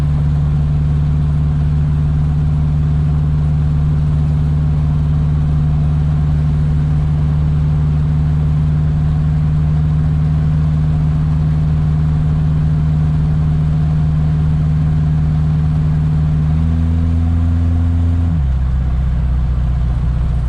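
A 1969 Opel GT with an automatic transmission and custom exhaust runs at a steady, loud, droning idle close by, its tone shifting briefly near the end as the engine note changes.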